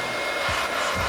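Steady broadband rush of air blowing loose debris out of a crack in concrete, a continuous close hiss lasting about a second with no speech.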